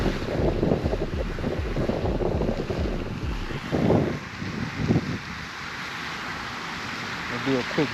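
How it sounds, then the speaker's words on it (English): Strong wind gusting over an outdoor microphone beside a fountain, loud buffeting rumble that swells and drops in bursts, with a voice talking through it early on. "Very windy today."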